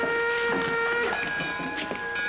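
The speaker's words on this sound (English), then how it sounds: "Here's the train now." A train rolls in with a steady metallic rumble and long tonal squeals of brakes or wheels, sustained and fairly loud with no talking.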